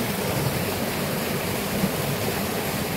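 A river running high with plenty of water rushes steadily and loudly, a dense, unbroken roar of flowing current with no voices over it.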